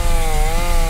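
Chainsaw in the video game Escape the Backrooms roars loud and steady at close range, a continuous buzzing whine with no pause.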